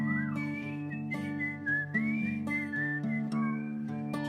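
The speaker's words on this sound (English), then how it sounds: "Can anybody do a double whistle so we can pretend there's a million people here?" Concert audience members at The Harrison in London whistle together over sustained instrumental chords at a gig, loose overlapping melodies rising and dipping across the steady backing.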